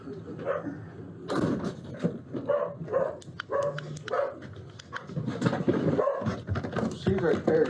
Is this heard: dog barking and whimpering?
yes